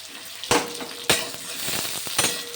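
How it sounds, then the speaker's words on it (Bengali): Eggplant pieces sizzle in hot oil as they go in for a light pre-fry, a steady frying hiss broken by a few sharp bursts and spatters, close and fairly loud with no talking. "তেলের মধ্যে বেগুন দিয়ে দিলাম"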